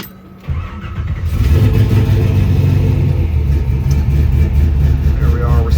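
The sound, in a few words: 1956 Chevrolet Bel Air engine starting and revving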